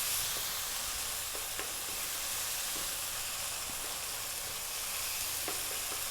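Tuna sizzles and crackles in an oiled pan seasoned with chili powder and oregano, a steady, dense frying hiss with scattered pops that continues without letup.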